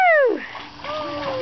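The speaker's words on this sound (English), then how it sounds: "I'm saying don't splash near me." A child splashes into a swimming pool with a sharp, loud splash, then water churns and sloshes nearby while a voice sounds briefly.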